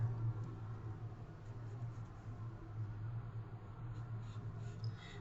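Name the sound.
pencil tracing on tracing paper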